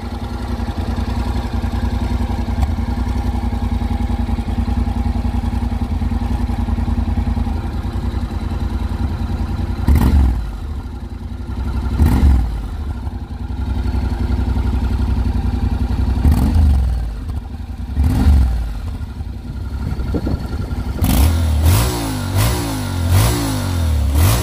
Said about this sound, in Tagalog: Subukan naman natin i-start yung ating engine para mapakinggan nyo po yung ating actual exhaust sound, yung ating stock pipe dito.